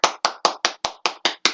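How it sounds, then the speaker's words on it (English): Eight sharp, evenly spaced hand claps in a steady rhythm, close and fairly loud, each with a quick decay, given as applause for wrestlers Nikki Bella and Natalya. "applause to Nikki Bella and Natalya"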